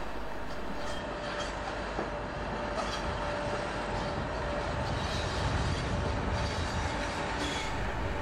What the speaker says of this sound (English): 86429, The Times, departs with train number 1D37, the 1740 to Shrewsbury.